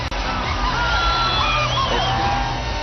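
A big cricket stadium crowd roars and cheers continuously during a Celebrity Cricket League match, a steady loud wash of voices with shouts rising above it.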